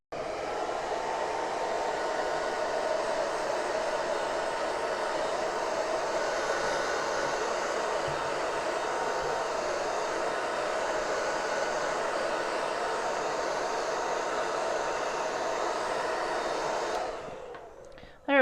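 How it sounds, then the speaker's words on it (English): A hair dryer blows loose glitter off a crafting table, a steady close whooshing roar that runs unbroken and then cuts off at the end. "The hairdryer got some of our excess off."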